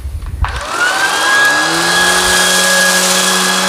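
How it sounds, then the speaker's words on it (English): A Shark Vertex cordless vacuum running on low power over carpet, spinning up after a soft click into a steady, loud whine with a clear pitched tone and a brush rumble that holds evenly to the end. "I'm going to vacuum half of this on low power and half of it on high."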